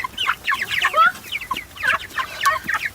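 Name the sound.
chicks clucking and pecking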